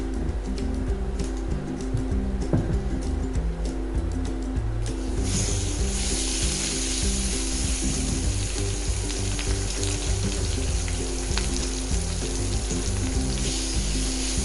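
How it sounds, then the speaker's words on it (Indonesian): Spices sautéing in a little oil over low heat for a cassava leaf vegetable dish, with a steady close sizzle and frying crackle that swells into a brighter, hissier sizzle partway through. "Pakai minyak sedikit aja, kita tumis-tumis bumbunya"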